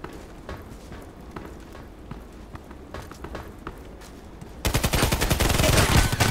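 SA-58 rifle firing in the Contract Wars video game: scattered footsteps and distant shots at first, then a loud, rapid burst of automatic gunfire near the end.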